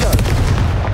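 Confringo blasting spell fired in the video game Hogwarts Legacy, a loud, dense burst of explosive booming and crackling that fills the whole moment without a break.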